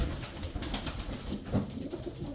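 Tumbler pigeons, a flock kept for flying, coo softly over a steady background of low murmuring and rustle, with one slightly louder coo near the middle.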